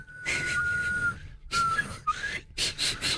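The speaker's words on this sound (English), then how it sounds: "I whistle by sucking air in, not blowing it out." Someone whistles a few tones in short breathy bursts, each trailing into an airy hiss, with pauses between phrases.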